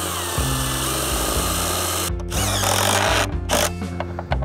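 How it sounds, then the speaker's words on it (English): A power drill pre-drills cedar boards for a horizontal cedar gate, its motor whining in several close, loud bursts that stop and restart with short pauses between them. "We like to pre-drill all of our cedars so we don't split it out."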